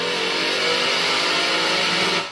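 A supercharged V8 engine revs loud and close in a short, steady burst of broadband roar that holds strong throughout before cutting off abruptly at the end.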